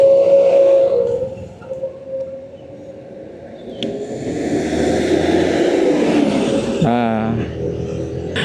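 Truck on a road being overtaken by a motorcycle, with a loud continuous engine and road roar that swells as the truck passes, then a rising whine near the end, with a person talking over it.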